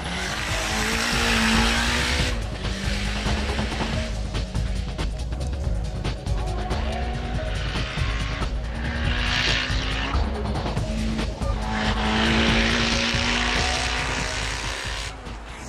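A Lancia Delta Integrale race car at the Blagoevgrad hillclimb on a partly wet, partly dry course, loud and close, with its engine revving hard through repeated upshifts and a broad rush of noise as it passes.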